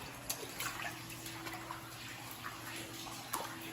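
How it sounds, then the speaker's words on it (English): Scattered drips fall from a ceiling, tapping irregularly against a wash of running and trickling water, with a faint steady hum in an enclosed space. "You can still hear water dripping down from the ceiling."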